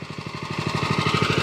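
A mini tractor's small engine chugs steadily close by, a fast even pulsing throb that holds loud and alone for the short stretch.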